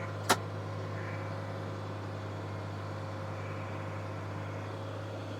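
A farm vehicle's engine runs in second gear with the PTO engaged, a steady low idle-like drone that continues evenly throughout, with one brief sharp click near the start.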